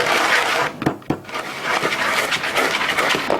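Mint leaves being bashed with granulated sugar, a run of loud, irregular thuds and knocks close to the microphone with gritty crunching between blows and no talking.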